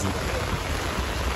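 Heavy rainy-season rain pours onto a street in Takoradi, Ghana: a loud, dense, unbroken hiss of falling water with no talking.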